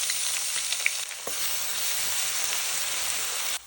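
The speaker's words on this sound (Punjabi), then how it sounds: "ਅਦਰਕ ਲਸਣ ਹਰੀ ਮਿਰਚ ਦੇ ਪੇਸਟ ਨੂੰ ਚੰਗੀ ਤਰ੍ਹਾਂ ਭੁੰਨ ਲਿਆ ਵਾ" Ginger, garlic and green chili paste sizzling in hot oil with cumin seeds, hing and curry leaves, a steady close-up frying hiss with a few light stirring taps, cutting off abruptly at the end, no talk.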